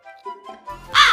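A crow caws once, loud and close, in a cartoon jungle scene, following softer tonal sounds.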